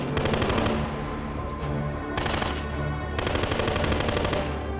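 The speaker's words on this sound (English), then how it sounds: "Fireworks explosions as MI6 rolls up" Fireworks exploding during a film action scene as MI6 arrives, a dense, continuous crackle of rapid bangs in loud bursts with brief dips between them, close and with no voices.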